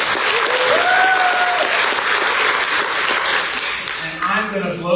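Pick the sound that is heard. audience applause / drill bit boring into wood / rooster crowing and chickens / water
audience applause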